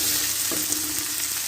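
Onions fry with turmeric in a pan, giving a steady, close sizzle with a brief stir partway through.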